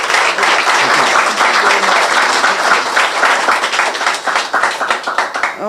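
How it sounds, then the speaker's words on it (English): An audience gives a long round of applause, thick, close clapping that holds steady and thins slightly toward the end. "just give a round of applause to Vish and everybody else for putting this together"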